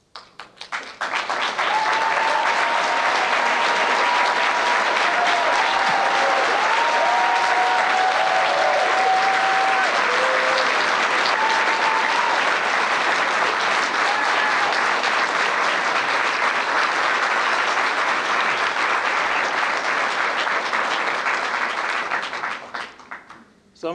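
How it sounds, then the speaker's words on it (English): An audience bursts into sustained, loud applause for the Black Student Union founders at an evening talk, dense clapping swelling quickly and holding steady for about twenty seconds before cutting off, with a voice faintly audible early on. "Please don't applaud again."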